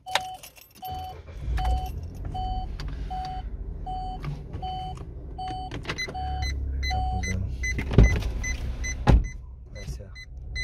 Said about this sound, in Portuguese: Deixa eu dar uma partida no carro aqui.